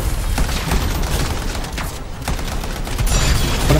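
Dense bursts of gunfire and grenade explosions during a fight against a Swarm Tyrant in the video game Anthem, loud and continuous, with booms layered over rapid shots and no talking.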